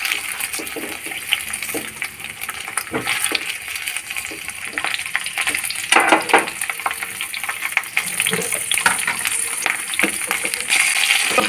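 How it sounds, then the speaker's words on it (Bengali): Potato pieces fry in hot mustard oil, a bright continuous sizzle with crackles and occasional stirring scrapes and clatters, close and moderately loud, no talk. "গরম হলে পরে আলু কটাকে প্রথমে ভেজে নিচ্ছি।"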